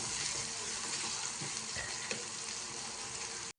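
Chopped onion fries in a pan for a spicy prawn curry, giving a steady, close crackling sizzle that holds at an even level throughout, with a few soft stirring knocks and no voices.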